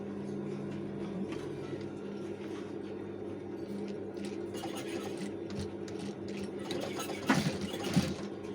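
Sewing machine stitching a flap for a trouser pocket through stiff, hard fabric, a steady mechanical hum with fine rapid ticking and a couple of louder clacks near the end.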